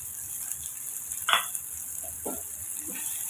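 Chicken fried with spice powders in a pan, a constant hiss of sizzling with a few soft scraping stirs, close and fairly quiet.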